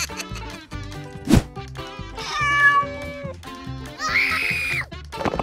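Cartoon cat meows several times in a high, wavering voice amid busy music and sound effects from an animated dinosaur clip with a Triceratops, including a sharp impact.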